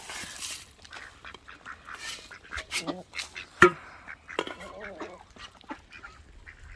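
Ducks and chickens at feeding time in a farmyard, scattered quacks and honking calls rising close by, with faint voices in the background.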